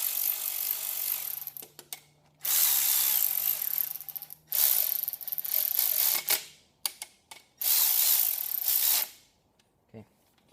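A ratchet tightens bolts on a 6.0 Powerstroke short block, cranking in loud, close bursts of rapid clicking separated by short pauses, with no talk.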